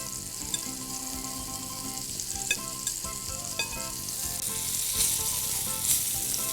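Meatballs fry in a pan with a constant close sizzle and crackle, small pops scattered throughout, no voices.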